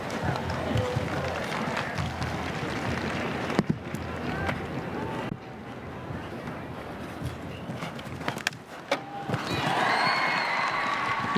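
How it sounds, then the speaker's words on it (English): Hoofbeats of the show-jumping horse Hickstead thud along at the CN International 2007 while a crowd cheers and claps, the noise swelling loudly near the end; a commentator talks over parts. "You can hear the crowd."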